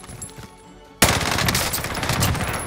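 Sudden burst of rapid automatic gunfire in a first-person shooter video game, loud and sustained after a quieter opening, firing continuously to the end with no talk.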